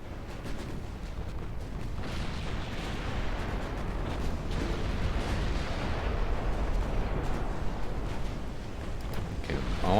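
Heavy battleship guns fire in a naval video game, a continuous thunderous barrage of deep booms and rumbling blasts overlapping for ten seconds without pause.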